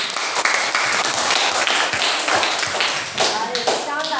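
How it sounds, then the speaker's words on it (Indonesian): A classroom group clapping hands after a presentation, a brisk cluster of claps and taps mixed with shuffling and soft voices, fairly close and loud. "Tepuk tangan."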